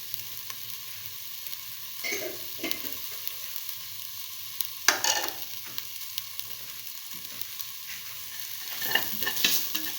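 Spice mixture being stirred into beef frying in a pan: soft scraping stir strokes come in irregular bursts over a quiet, steady sizzle, close and fairly gentle, with no talking.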